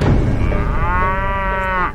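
A young cow in an animated film set in a small village in Magelang gives one long, loud, drawn-out moo that rises into a sustained tonal call, heard alone and close.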